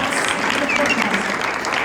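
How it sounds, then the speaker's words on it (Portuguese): A church congregation breaks into loud applause, a thick, steady roar of clapping with voices mixed in beneath it. "Você pode aplaudir o Senhor por isso?"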